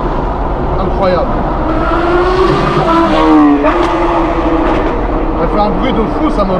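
A loud BMW M8 engine of 850 hp roars and revs up close with a brief tire squeal midway, while people talk over it throughout.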